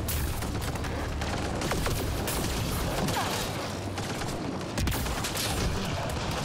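Dense, continuous gunfire from a firefight in the Mass Effect Andromeda video game, with rapid overlapping shots and loud crackling bursts filling the whole stretch.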